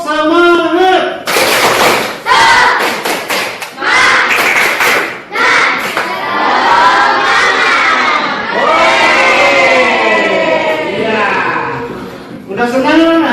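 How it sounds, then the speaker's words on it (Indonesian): A crowd of schoolchildren performs a clapping spirit chant in a classroom, with loud voices shouting in rhythm and sharp bursts of claps repeating over and over, close and energetic throughout. "silakan kalian untuk tepuk semangat"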